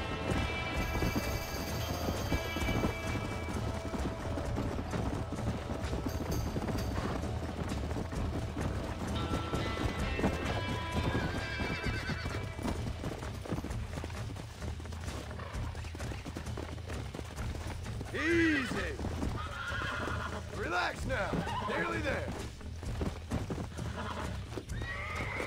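Tired horse in the video game Red Dead Redemption, with steady hoof clip-clops and repeated close neighs and snorts over a rumbling, rain-like ambient bed throughout.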